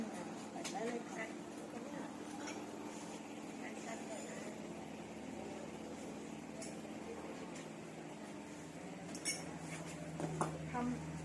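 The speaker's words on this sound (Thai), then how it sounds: "แล้วเราก็จะมาแต่งจานกัน" Dishes and cutlery clinking softly while a Thai rice dish with chili paste is plated, scattered light clinks and taps at a low level with a faint background hum and a few sharper knocks near the end.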